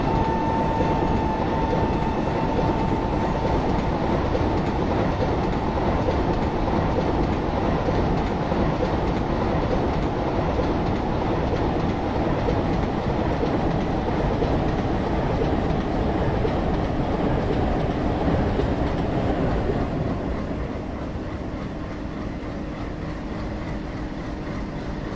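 Train in Train Simulator (RailWorks 3), a WAP 7 electric locomotive hauling LHB coaches on an Indian railway line, rumbling steadily and loudly with dense wheel-and-track noise throughout, easing slightly toward the end.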